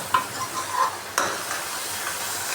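Masala frying in oil in a pan, a steady broadband sizzle punctuated by a few scraping stirs, close and fairly loud, with no voices.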